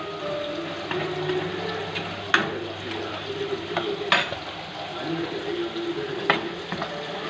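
Coriander powder is stirred into yellowish-brown frying onions for Nadan kera curry, a continuous close sizzle with occasional spoon scrapes and knocks against the pan, no speech.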